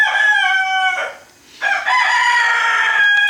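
Two adult roosters crow in a backyard flock, one long cock-a-doodle-doo followed after a short pause by another, loud and close, with no talk.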